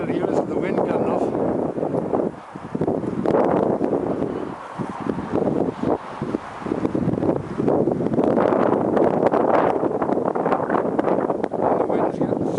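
Strong wind gusting across an open colliery site, a loud, constant roaring buffet over the microphone with brief dips, voices partly buried beneath it.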